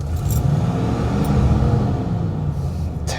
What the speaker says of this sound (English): That's a nice sound, even though it's single exhaust.